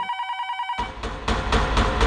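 A telephone rings with a steady, repeated electronic trill in an indoor police scene. The ring cuts off partway through and is followed by loud, rhythmic pounding noise.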